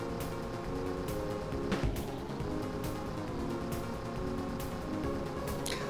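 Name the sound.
kart engine at full throttle in a racing video game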